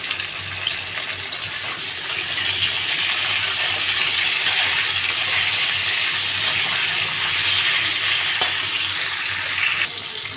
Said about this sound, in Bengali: অল্প করে একটু হলুদ দিয়ে নেড়ে নেব ফুলকপিগুলোকে।